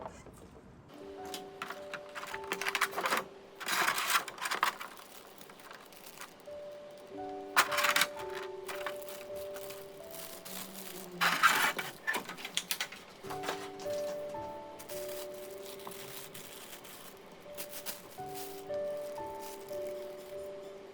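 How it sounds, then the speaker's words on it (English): An anime figure and its elaborate base being unwrapped from protective plastic, with intermittent close crinkling and rustling bursts while soft music plays underneath. "as I remove Mari and her elaborate base from all the protective plastic"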